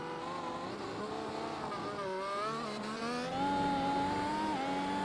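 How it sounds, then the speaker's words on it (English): F1 race cars scream around Monza in a racing video game, with high engines whining and shifting pitch continuously, loud and close throughout. "just how incredible it is that they are able to whip themselves around the track going 200 mile an hour"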